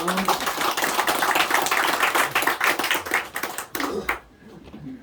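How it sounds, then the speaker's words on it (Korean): A church congregation claps during a Sunday morning worship service in Korea, a lively burst of many hands with a rhythmic, uneven texture that stops abruptly near the end. "하나님께 영광의 박수를 올려드리겠습니다"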